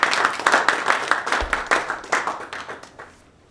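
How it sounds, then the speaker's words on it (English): Audience at an open poetry and fiction reading claps for a few seconds, a modest scatter of hands that thins and fades out near the end. "So let's give a round of applause and get started with some poetry from Connor Burrell."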